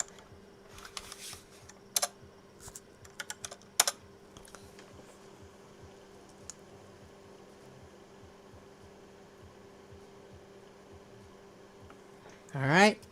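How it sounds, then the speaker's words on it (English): Typing on a wireless computer keyboard produces scattered clusters of sharp key clicks in a quiet room over a steady low fan hum, followed by a brief louder rustle near the end. "This wireless keyboard."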